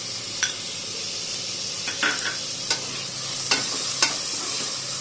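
Ginger garlic paste frying in a pan for vegetable pulao, a steady close sizzle with a few sharp scrapes and taps of a spoon stirring against the pan, no voices.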